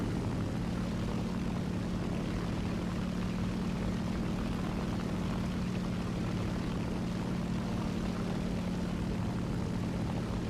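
A B-25 bomber's propeller engines in the War Thunder video game make a continuous, even droning hum at moderate volume, with no talking over it.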